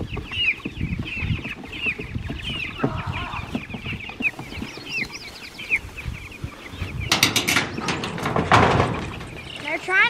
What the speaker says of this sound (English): that is a meat chicken, and they're so Cornish much. Cross. Yes, a Cornish cross